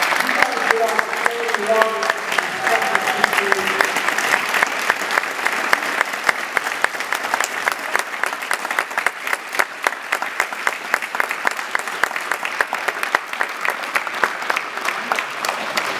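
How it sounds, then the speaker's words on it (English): At an MI Elite 25 graduation ceremony, the crowd gives the coaches a long, vigorous round of applause with crisp, rapid individual claps, and a voice speaks briefly over the clapping at the start. "I also want you guys to give your greatest round of applause to our coaches"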